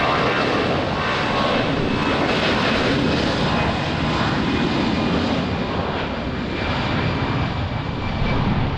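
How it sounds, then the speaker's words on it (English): An Airbus A320 departs a runway at Lisbon Airport in rain and wind, giving a steady, loud, broadband engine roar that holds without pause throughout. "Airbus 320 departing runway 20"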